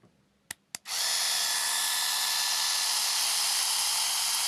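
An Ardesto LESH-Y305 epilator runs on a leg: two short clicks, then a steady, loud high-pitched motor whine that continues without pause.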